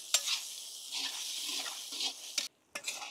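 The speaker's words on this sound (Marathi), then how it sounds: "टमाटर 2 ते 3 मिनिटं आपण परतून घेऊ कांद्यामध्ये।" Chopped tomatoes being sautéed with onions in a pan for a Maharashtrian egg bhurji, a soft close sizzle with spatula scrapes and a few clinks, briefly cut off near the end.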